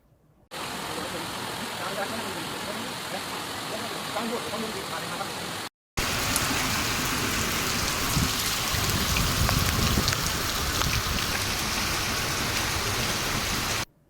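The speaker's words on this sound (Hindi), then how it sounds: "तेज हवाओं के साथ धुआंधार बारिश हुई।" Heavy rain pours down steadily, driven by strong winds during a downpour in Gujarat, India, a dense continuous hiss of drops that breaks off briefly before resuming even louder and fuller.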